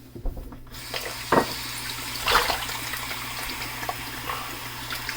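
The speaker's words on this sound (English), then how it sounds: "Rinsing the razor in clean water." Running water splashes steadily from a tap, with occasional clinks and swishes as a Schick Krona TTO safety razor is rinsed under the flow.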